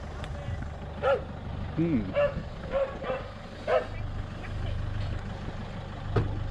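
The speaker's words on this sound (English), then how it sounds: "Got a dog fight going on over there." A German Shepherd and a Chihuahua scuffle at a beach, heard at a distance as scattered barks, yips and whimpers over a low engine rumble, with someone talking at times.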